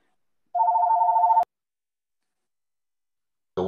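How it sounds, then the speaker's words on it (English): A telephone rings once with a steady electronic tone lasting under a second, then the line falls silent before a brief burst of sound at the very end. "Someone's going to answer that phone."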